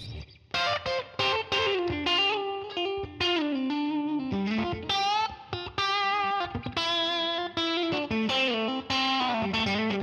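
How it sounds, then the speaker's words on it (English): An electric guitar through a Line 6 Helix with dual amps (US Double Nrm and Fullerton Nrm) plays a melodic line of sustained, bending notes with a distorted tone and a wash of reverb trailing each phrase. "Put the reverb on."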